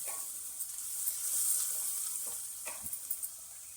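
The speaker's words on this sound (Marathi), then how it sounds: "मिक्स करून चांगलं वाटण सगळं शिजून घेऊ आपण" Roasted onion and coconut masala paste cooking in a pan for a crab curry, a soft steady sizzle with a few stirring scrapes, fairly quiet and close, no talk.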